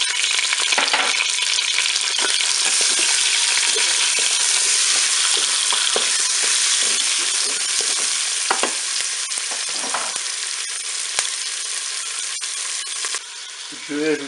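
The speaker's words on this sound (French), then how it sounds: "Attention, ça éclabousse un petit peu." Onion pieces frying and spattering in a Cookeo pot after pork browning, a loud, dense crackling sizzle broken by metallic stirring clicks, with a brief voice near the end.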